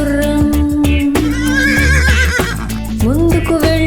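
A horse neighing loudly, with a few clip-clop hoofbeats, set within a children's rhyme about a lively horse over bright backing music.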